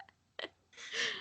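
A single short human sneeze, near and fairly loud, preceded by a quick intake of breath, in a quiet indoor conversation setting.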